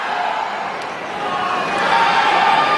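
Crowd at a badminton match between Chen Long and Lin Dan, a steady broad roar of cheering and excited voices that swells louder toward the end, with no clear single voices standing out.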